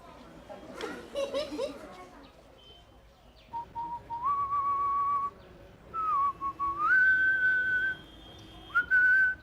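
A person whistles a simple tune in several sustained, wavering phrases with short pauses between them, close and clear, after a burst of chatter and laughter at the start.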